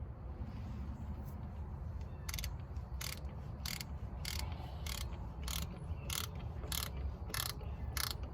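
A ratchet works on compressor mounting bolts on a Cat 3126B engine, a series of quick clicking bursts repeating at a steady rhythm, close and fairly quiet over low background rumble.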